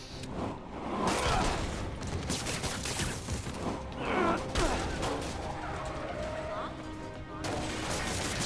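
Bursts of gunfire in the Marvel's Spider-Man 2 video game, loud crackling shots and impacts mixed with combat clatter, while someone talks over the action.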